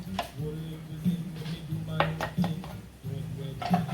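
A spoon stirs red wine sangria in a pitcher, giving quick clinks and knocks against the glass over a low hum, with a voice faintly present in the room.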